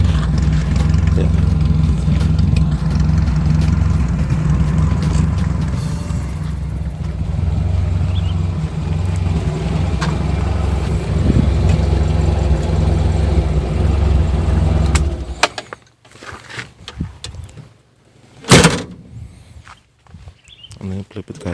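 An old Toyota Corolla KE30 idles with its engine in good running order, giving a steady, close, low rumble for about fifteen seconds before it fades into quieter handling noises and a brief clunk.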